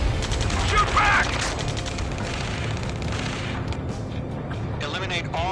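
Loud, dense gunfire and explosions in the video game Ace Combat 7, continuous rattling bursts and booms throughout, with radio-style voices talking over the battle.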